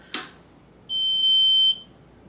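A brief click, then a steady high electronic beep lasting under a second as a resin print wash and cure device switches on, close and clear, followed by quiet.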